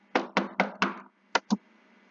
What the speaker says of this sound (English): I reach Sayori's house and knock on the door.